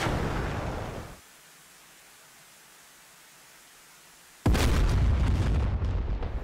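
A missile launch from a Su-25T attack jet in a DCS combat flight simulator breaks in as a sudden loud roaring burst. It follows a stretch of steady engine noise and a quieter gap, then rushes on continuously.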